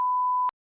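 A single steady electronic censor beep, a pure sustained tone lasting about half a second before cutting off abruptly into silence.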